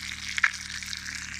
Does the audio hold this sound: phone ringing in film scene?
no